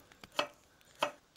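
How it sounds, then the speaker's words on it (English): Dandelion and burdock roots being chopped with a knife on a board, two crisp, separate cuts about half a second apart, close and clear with no talk over them. "While I'm chopping the roots"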